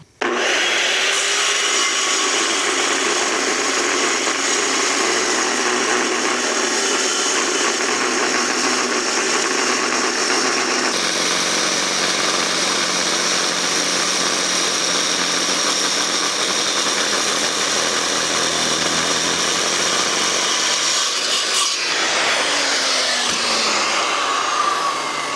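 A saw cutting through a thick chunk of metal for a skid steer wood splitter, giving a loud, continuous close-up grinding rasp that holds steady for over twenty seconds before shifting near the end, with no talk.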